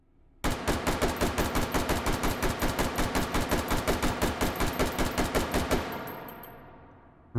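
Rapid automatic gunfire in the VR shooting game Hot Dogs, Horseshoes & Hand Grenades, a loud, evenly spaced burst of about thirty shots emptying a magazine, then a fading ring and silence.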